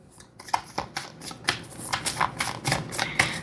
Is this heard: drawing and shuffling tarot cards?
yes